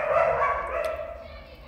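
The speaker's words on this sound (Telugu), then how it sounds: "బయట డాగ్స్ చాలా బార్గెన్ చేస్తున్నాయి" Dogs bark outdoors, a steady bout of calls lasting under two seconds, moderately loud at a middle distance.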